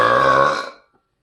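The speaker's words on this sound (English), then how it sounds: "I feel like I'm not even burping at full power." A single loud, long burp from a person in a burping contest, resonant and voiced, lasting under a second before cutting off into silence.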